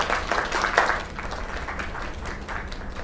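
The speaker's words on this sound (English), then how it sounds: "Another round of applause." Applause from a small crowd at a celebration inside the game Lake: a loose patter of clapping hands rises briefly and then tapers to a softer, scattered ripple.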